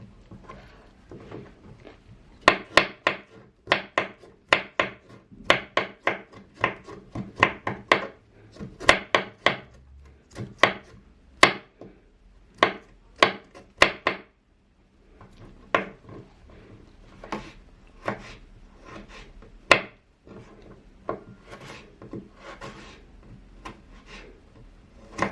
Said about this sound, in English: I just take a carrot, and then the end of it, the thick part of it, I cut those for the stew